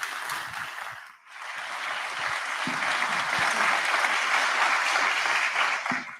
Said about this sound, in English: So, ladies and gentlemen, a big round of applause.